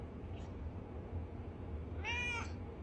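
A cat meows once, a short clear call near the end, over a low steady background hum.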